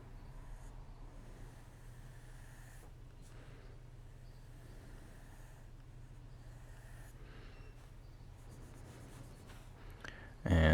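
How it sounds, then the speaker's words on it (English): Pencil drawing quick leaf lines on paper during a forest sketch, a soft, steady scratching that runs continuously and quietly, with a brief louder bump at the very end. "Let's do some really sophisticated leaves, otherwise known as just drawing a few lines."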